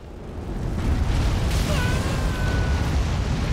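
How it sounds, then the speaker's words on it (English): Giant in Elden Ring spitting fire: a sustained, loud roaring rush that swells after the first half-second and holds steady, with a faint tonal whine over the top partway through. "Oh yeah, it spits fire."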